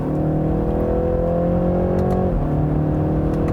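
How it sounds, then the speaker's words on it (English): BMW 3-Series sedan exhaust giving a low, steady burble under a continuous engine drone, with a brief pitch drop as revs fall partway through; close and loud, no voices. "And it has a little burble from the exhaust as well."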